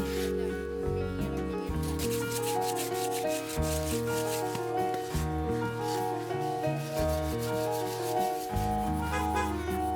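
Sandpaper rubbed by hand on a surface at an outdoor community garden, a steady run of loud rasping strokes lasting throughout, with no talking.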